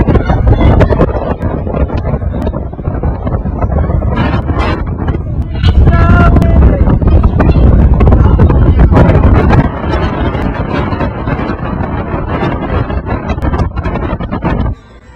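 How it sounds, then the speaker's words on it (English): Strong gusty wind roars and pummels the microphone with heavy rumbling buffets that surge and ease throughout, loud and close, on a high observation deck in San Antonio, Texas. "Show you how windy it is up here."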